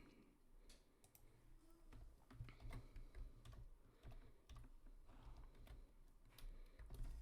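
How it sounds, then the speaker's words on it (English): Typing on a computer keyboard, a quiet irregular run of key clicks and taps, close but faint, with no talk. "Let me type it in."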